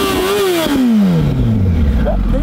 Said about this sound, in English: Can I try to like rev it?